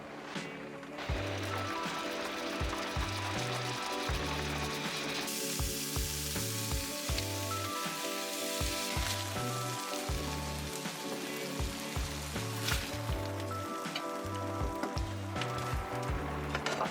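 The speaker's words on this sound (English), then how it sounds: "frying up a bunch of burgers in a row like this" Steady sizzling and crackling of several burgers frying in a pan inside a van, with background music playing throughout.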